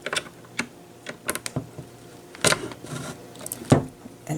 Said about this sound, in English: you want to put it all the way in until you hear it click